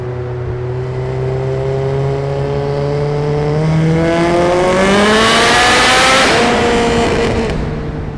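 Loud, close engine of a 1997 Mitsubishi Eclipse built to 800 HP, droning steadily and then climbing in pitch as it revs hard, easing back near the end with no talking.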